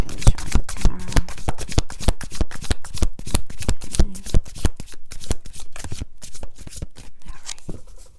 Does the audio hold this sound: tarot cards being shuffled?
yes